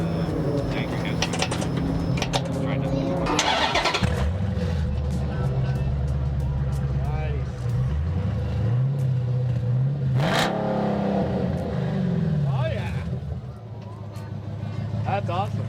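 An old-school Dodge Charger fitted with a Black Widow exhaust rumbles through a loud, low engine drone with rising revs and throttle blips, close by, while people talk over it.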